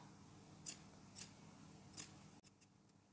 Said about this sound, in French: Et donc, je vais couper un petit peu plus.